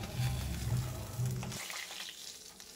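Rohu fish pieces frying in mustard oil, a dense close sizzle with some stirring, fading toward the end of the short stretch.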